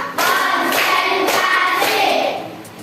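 A classroom group claps hands together during a counted clapping chant, making a short series of loud, close claps in a steady rhythm that trails off at the end.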